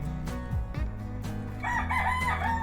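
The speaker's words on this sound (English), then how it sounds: "speaking of crowing, I also have chickens" A backyard rooster crows loudly and nearby, one extended cock-a-doodle-doo with a rising, wavering tail and a few low clucks from other chickens around it.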